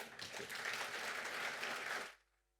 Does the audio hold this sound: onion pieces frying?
no